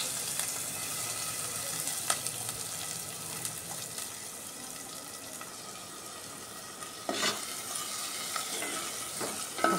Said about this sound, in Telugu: ఫస్ట్ ఉల్లిపాయ పచ్చిమిర్చి వేసి వేగనిస్తున్నాను.